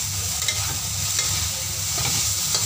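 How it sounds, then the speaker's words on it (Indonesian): Long beans and white tofu stir-fried Hong Kong style in a pan with sauce reducing, giving a steady close sizzle with scraping stirs and light clicks of a utensil, no talking. "Sambil kita tumis hingga saus atau kuah yang kita gunakan tadi mengering."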